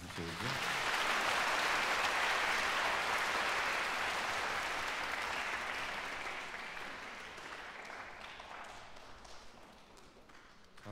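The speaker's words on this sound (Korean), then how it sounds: "박수 쳐주세요" A concert audience at a youth music concert breaks into sustained applause right after a harp performance, loud at first and slowly fading over about ten seconds.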